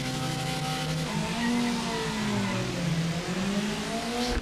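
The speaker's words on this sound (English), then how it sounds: "I think my car was rolling a little bit when I was revving up on clutch there" A race car engine in a racing video game revs on the clutch on the starting grid, its tone sweeping up and down in steady, loud waves with no one speaking over it.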